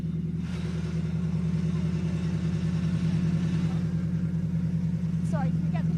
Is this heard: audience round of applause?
no